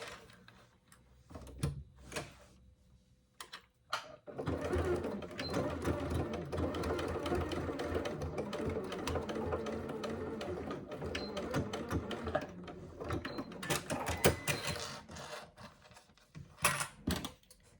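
Sewing machine top stitching a handbag runs in a steady fast rattling burst of about eight seconds, close and even, with brief handling clicks before and after.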